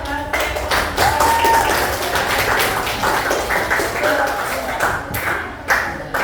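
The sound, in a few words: applause for a group after their discussion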